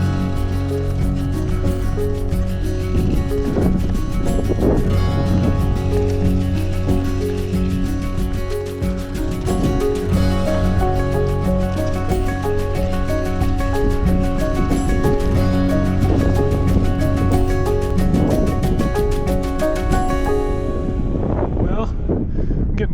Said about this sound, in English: Getting blasted, like 30-mile-an-hour gusts.